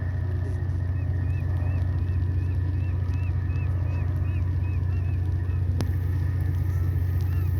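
Seagulls calling on South Marble Island in Glacier Bay, Alaska, a faint series of short repeated cries carried over a steady low rumble, likely a boat engine, with rain outdoors.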